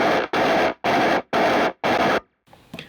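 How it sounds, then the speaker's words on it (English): Five chugging bursts of heavily distorted 8-string rhythm guitar with a thin, lo-fi radio-style EQ, in a modern metal riff, loud and close, separated by brief silences and ending with a faint tail. "basically this gives you that like kind of lo-fi radio tone, which you hear in a lot of modern metal"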